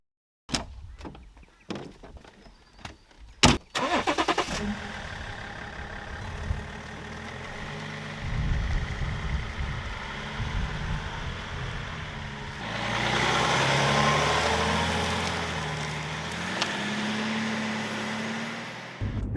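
A 20-year-old BMW X5 with door and handling clicks, then the engine cranking and catching, settling into a steady idle and revving up before easing back, close and fairly loud with no voices.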